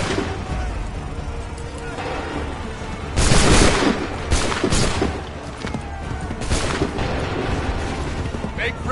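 Musket gunfire in the video game Assassin's Creed III, a dense rumble of shots and booms that swells into a louder burst partway through, with shouted voices mixed in.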